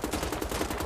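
An STG-46 assault rifle in the Wolfenstein video game fires a short, rapid automatic burst, dense and close for under a second.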